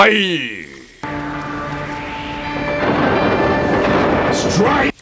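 Conjured storm effect in a Thai Buddha-life drama, with deep rolling thunder and a dense roar of wind and rain building steadily and then cutting off abruptly, opening under a spoken voice.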